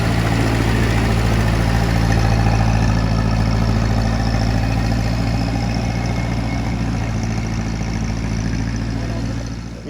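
A vintage Ferguson T20 tractor engine runs on paraffin in a workshop, loud and close. It holds a steady, throbbing mechanical drone throughout and eases off slightly at the end.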